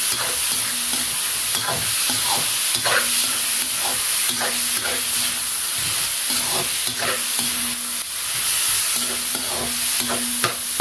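Squash and meat sautéing in a pan: a constant loud sizzle with rhythmic scraping strokes of a spatula stirring the food, close up, without speech.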